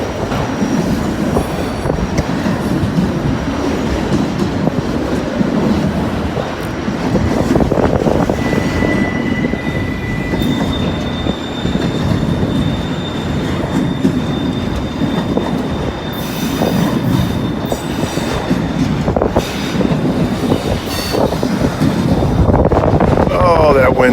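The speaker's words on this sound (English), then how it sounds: "I see some box cars coming now" A mixed-manifest freight train with box cars rolls past close by in a long, continuous roar of wheels and cars, with faint squealing tones and heavy wind buffeting the microphone throughout.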